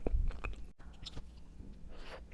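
Quiet, close-up chewing of crispy scone-crust bread, with a few crunchy bites followed by softer munching.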